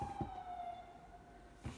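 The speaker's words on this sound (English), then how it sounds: "You hear sirens all day in New York City now." A faint, steady siren from an ambulance in New York City holds one tone for under two seconds, distant and low under background noise, with two brief thumps.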